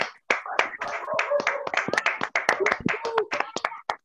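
An audience claps for a speaker at a business culture session, a sharp scattered applause of separate hand claps rising and thinning over a few seconds, close and fairly loud, with no talking.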